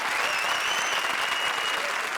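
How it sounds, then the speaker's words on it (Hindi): Steady, dense applause from a comedy show audience fills the whole moment, loud and continuous without pause. "जोरदार तालियां"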